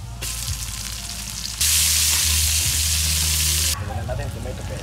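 Onions sautéing in a pan for chicken kaldereta in coconut milk, a steady hiss that surges to a loud, dense sizzle midway, then settles back down, with a low hum beneath.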